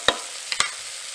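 Butternut squash sizzles faintly while sautéing in an Instant Pot, broken by a few sharp clicks and scrapes of stirring against the pot.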